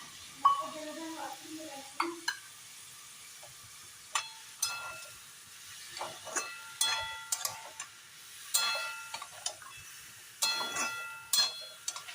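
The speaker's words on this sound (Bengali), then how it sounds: "এবার এই যে খুব ভালোভাবে পোস্তর সাথে আলুটাকে কষিয়ে নেব" Potatoes with poppy seed paste are stirred and sautéed in a pan for Bengali aloo posto: sparse, faint scrapes and light clinks of a spatula over a quiet background, with a brief murmur near the start.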